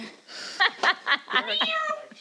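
Pet cat meowing indoors, several short vocal calls in quick succession, close and moderately loud, with a longer drawn-out meow at the end and no talk over it.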